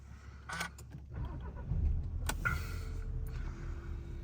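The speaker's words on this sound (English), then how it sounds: "We'll start the engine up." A Volkswagen Arteon R-Line TSI starts up after a jingle of keys and clicks, the engine catching and settling into a quiet, steady idle at close range.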